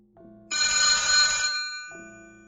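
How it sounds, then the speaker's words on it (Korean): An old-style telephone bell rings in a room, one loud sustained metallic trill after a softer lead-in tone, fading and followed by another quieter tone, with no talking. "전화다."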